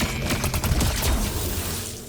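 Rapid bursts of custom weapon gunfire in Fortnite built with the Unreal Editor for Fortnite, a quick close string of shots over about two seconds.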